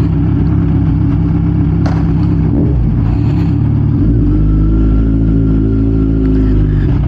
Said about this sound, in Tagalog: bago yung kon natin, yung exhaust natin, at medyo tumahimik tong motor natin ngayon na may bass